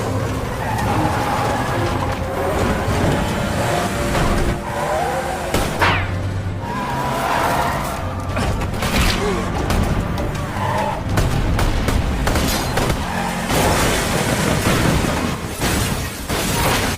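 Film car chase and shootout involving an armored truck: dense, loud action soundtrack with roaring engines, screeching tire skids, crashes and bursts layered over music, with no pauses throughout.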